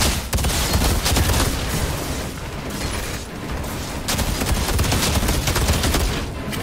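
Guns fire in the Outriders video game, dense bursts of rapid gunfire and booming shots crowding together at loud close range, with only short lulls between volleys.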